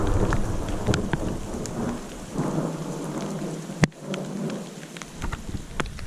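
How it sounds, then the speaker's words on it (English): A heavy afternoon thunderstorm in the Uinta mountains: dense, loud rain drums on surfaces throughout, with rolling thunder underneath and one sharp, close crack of thunder partway through, no voices. "We're just gonna hike in the rain."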